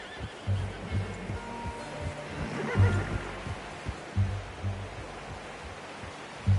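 In Red Dead Redemption 2, a horse whinnies and snorts in several short, fairly close bursts against a low ambient background, with soft hoof-like thuds between calls.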